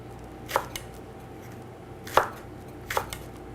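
A knife chops tomatoes and spring onions on a board in three sharp, separate cuts spaced irregularly, close and crisp over a quiet kitchen background.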